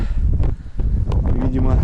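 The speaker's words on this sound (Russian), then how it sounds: "Ветер очень ужасный, ребята." Strong spring wind buffets the microphone on a fishing trip in low, rumbling bursts, with a voice faintly audible under the blustery noise.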